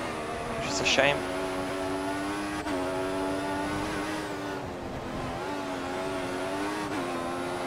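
A Formula 1 car in the F1 2014 racing game at the Bahrain GP drops through its gears, the high engine whine stepping down and rising again as it revs, with someone talking over it.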